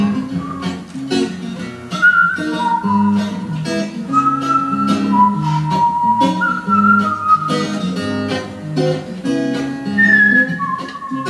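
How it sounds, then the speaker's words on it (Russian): Artistic whistling carries a clear, melodic tune in sustained and sliding notes over a song's musical accompaniment, up front and loud, with no talking. "с песнями пытаюсь изображать какой-то художественный свист"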